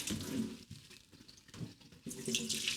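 Water drained off a bowl of soaked, swollen chickpeas in a home kitchen, a steady close splashing pour with brief dips, ending in a fuller gush.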